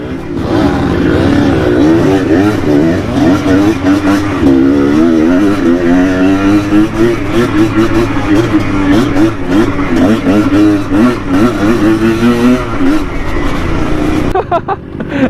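A loud engine runs steadily throughout, its pitch wavering and rising as it revs, like a Yamaha TS 125 two-stroke trail motorcycle close by on an off-road track.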